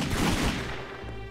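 Enemies blind-fire guns in The Godfather video game, a brief, dense burst of overlapping gunshots that booms loudly up front and then fades out quickly.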